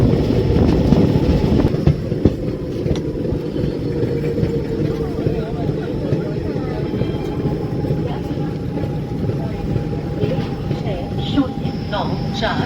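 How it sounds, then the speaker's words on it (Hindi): A Gomti Sagar Express passenger train rolls into Pukhrayan station with a steady, loud rumble and rattling carriages running throughout, with no pause. "ट्रेन अपने निर्धारित समय से लगभग 1 घंटे 10 मिनट की देरी से पुखराया स्टेशन पहुंच रही है"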